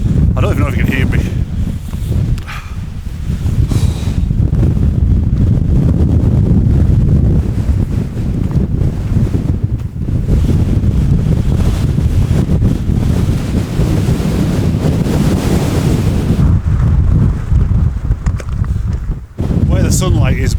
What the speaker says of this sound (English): So cold, and it is windy.